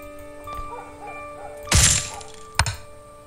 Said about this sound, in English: That door sounds like it's still going bang.